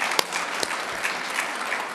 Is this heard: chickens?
no